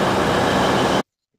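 A train rumbles loud and close at a station platform, a dense steady roar of wheels and carriages that cuts off abruptly after about a second.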